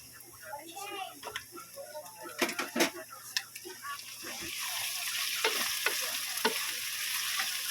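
Chicken frying in a pan for Bicol-style pancit bato, with a steady sizzle and scattered scraping stir strokes under nearby talk.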